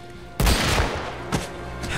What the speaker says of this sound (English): you just shot your own man